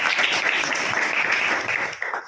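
Children in a classroom quiz clapping together, a brief burst of fairly loud group applause that fades out toward the end.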